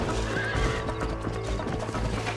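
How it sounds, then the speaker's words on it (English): A horse in the video game Red Dead Redemption whinnies and clip-clops as the rider mounts, the galloping hooves steady and loud beneath game music. "am running and I jump on my horse"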